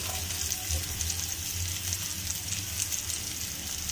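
Mustard seeds tempering in hot oil for a Bengali dish, a steady close sizzle and hiss running throughout with a faint low hum beneath and no talking.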